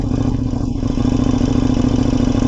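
A KTM 1290 Super Duke R motorcycle with an SC-Project aftermarket exhaust idles with a deep, throaty rumble, steady and loud with a fast pulsing beat, close by and alone.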